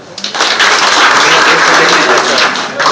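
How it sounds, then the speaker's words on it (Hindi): An audience claps in a sustained burst of applause, loud and close, filling the space for several seconds after a brief lead-in. "ताली बजाइए"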